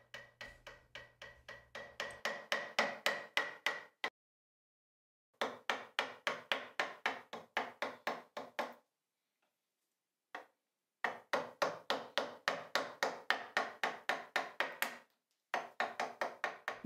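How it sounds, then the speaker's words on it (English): A chisel carving the top of a wooden cleat, struck in quick bursts of sharp, close knocks, each run of blows separated by short silent pauses. "starts to contour the top with a chisel"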